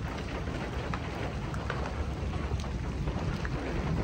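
Heavy thunderstorm rain pours steadily and loudly with no break, a dense hiss of drops over faint rumbles. No voices are heard.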